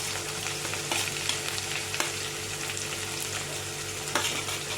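Chopped green chillies fry in hot oil in a pan for hakka noodles, a loud, close, continuous sizzle with occasional clacks of stirring and no talking.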